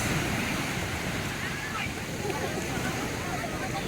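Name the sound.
ocean waves at Tiwitiwi Beach, Albay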